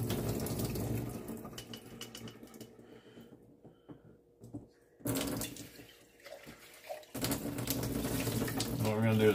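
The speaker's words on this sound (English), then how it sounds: "rinse them off really well." Tap water runs steadily into a sink as blueberry and raspberry seeds are rinsed in a strainer, the flow briefly cut off midway and then turned back on, a continuous close splashing rush.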